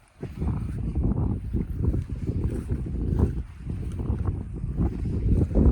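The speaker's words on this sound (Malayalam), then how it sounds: "വെള്ളമൊക്കെ തിരയടിച്ച് ചെറിയ ഇളം കാറ്റ് ചെറിയ ചെറിയ തിരകളൊക്കെ ആയിട്ട് വരുന്നത്" Gentle breeze and small waves lapping along a forested shoreline in Idukki, a steady close rush of wind and water with soft rolling swells throughout, no voices.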